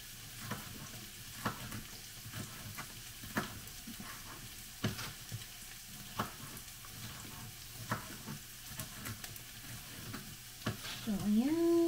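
Bopis sizzles while being sautéed in a pan, with a soft steady frying hiss broken by regular scraping strokes of a spoon stirring through it, close by and fairly quiet, a brief higher clink near the end.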